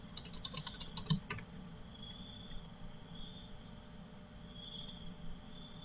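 A computer keyboard clicks in a quick burst of keystrokes while login details are entered, then goes quiet against a steady background hum with a faint high whine.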